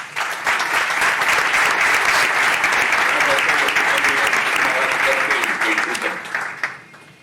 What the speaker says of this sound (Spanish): un aplauso para ti desde aquí